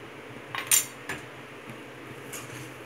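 A utensil scrapes and clinks against a pan while poha upma is stirred, a few close metallic taps and scrapes, the loudest near the start, then fainter ones.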